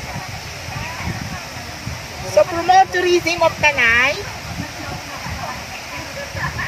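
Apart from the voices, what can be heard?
rushing water of an overflowing river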